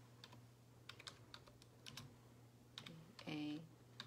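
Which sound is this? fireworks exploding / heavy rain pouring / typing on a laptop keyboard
typing on a laptop keyboard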